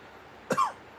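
A single close, sharp cough, one short burst with a brief rougher tail from a person with lingering chest trouble, alone in a quiet indoor room.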